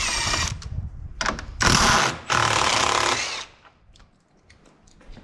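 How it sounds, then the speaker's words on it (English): A power tool loosens the 10mm headlight bolts on a 2022 Ford F-350 King Ranch, whirring in several close bursts with short gaps before it falls quiet. "Moving on to the headlights, we're gonna go ahead and release the 10mm bolts off the top."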